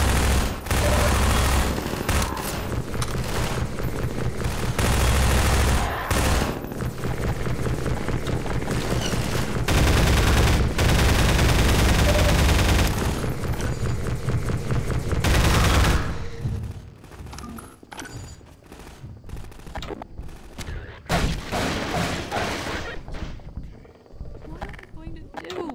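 Half-Life 2 combat against Combine soldiers: loud, dense volleys of gunfire and explosions fill the first fifteen seconds, then thin out into scattered shots and quieter game sounds, with someone talking throughout.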